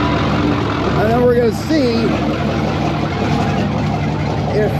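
A Cummins 555 Triple Nickel diesel running in a Brockway 358 truck, a steady low idling rumble close by, with someone talking over it and a brief whistling tone.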